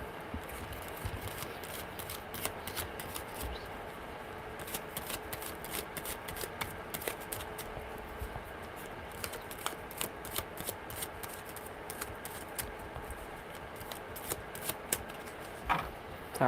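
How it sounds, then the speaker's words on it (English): Tarot cards are shuffled by hand in a long run of quick riffling slaps and soft rubbing, close and fairly quiet, with sharp flicks scattered through the steady shuffle. "I was enjoying myself shuffling."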